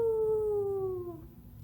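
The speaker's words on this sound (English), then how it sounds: "Later, a wolf jogged up to the cave. It howled at Theodore." A single wolf howl, a clear sustained tone that glides slowly downward for over a second before fading, heard alone against a low murmuring background.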